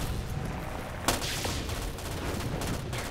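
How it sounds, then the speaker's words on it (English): Rapid M16 rifle fire in Call of Duty Zombies (a Tranzit remake gun game), a dense continuous crackle of gunfire with a sharper burst partway through, steady and loud without speech. "Look how fast I can fire the M16."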